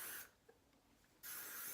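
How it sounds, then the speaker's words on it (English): Hairspray sprayed onto hair while styling messy beach waves: two short, bright hissing bursts from an aerosol can, one at the start and one after a pause of about a second, close and fairly loud. "I'm just kind of going to use my hairspray as that"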